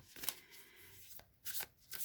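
Tarot cards are given a quick shuffle, with several short riffling bursts separated by pauses, close and fairly quiet with no talking.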